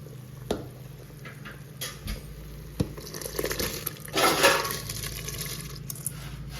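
Rice poured into a pot of boiling water while cooking vegetable pulao, a soft rushing, bubbling pour that swells midway over a steady background, with a few sharp clinks at the start.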